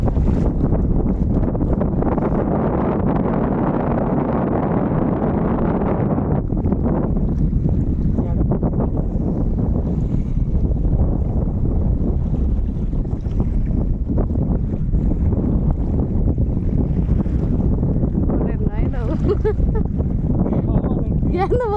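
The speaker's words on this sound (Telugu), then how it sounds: "ఈ అలలో ఎత్తుకొచ్చేస్తున్నాయి చూడు మనల్ని" Rough sea waves rock a small fishing boat, heard as a continuous roaring wash of water and wind buffeting the microphone, with voices speaking faintly on board.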